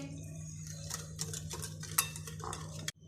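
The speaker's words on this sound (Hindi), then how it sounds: "सब मसालों को हम अच्छे से मिक्स कर लेंगे" Spices, food colour and chicken tikka masala mixed into raw chicken in a bowl, a soft wet stirring and squelching with light clinks of a spoon against the dish, close and quiet.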